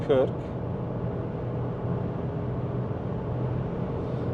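Steady engine and road roar from inside a Seat Arona with a 1.0 TSI 116 hp petrol engine cruising at high motorway speed, a continuous loud drone with a brief voice-like tone at the very start.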